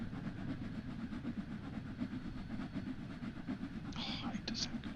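A steam locomotive working at full regulator in Train Sim World 3, with a steady chuffing, rolling drive and rail clatter heard continuously, and a brief hiss or whistle-like burst near the end.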